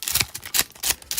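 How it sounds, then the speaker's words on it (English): A trading card pack is being snipped open with a quick run of sharp, close crisp cuts and crinkles, about four bursts in just over a second. "Snipping this."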